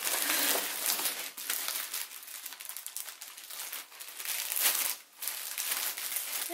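Plastic packaging crinkles and rustles continuously while a Ju-Ju-Be Commodore BRB bag is unboxed, a close, busy crackling with brief pauses and no talk.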